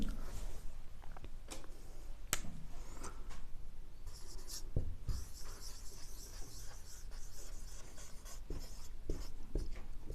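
Pen or chalk writing out a collective noun definition during an English grammar lesson, producing steady scratchy strokes with occasional sharp taps, close and fairly quiet, with no talking.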